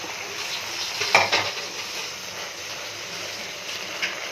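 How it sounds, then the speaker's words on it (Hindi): Macaroni with mince and sauces is stirred in a pan on the stove, with a steady close scraping, a soft sizzle underneath and a few louder clacks of the spoon against the pan. "और ना इसको अच्छी तरह से मिक्स करेंगे, 2-3 मिनट पका लूँगी"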